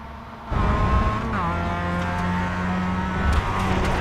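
Mazda race cars at WeatherTech Raceway Laguna Seca in a sim racing game, engines droning loudly and rising in pitch as a car gets back on the throttle after another spins, with a brief tire squeal.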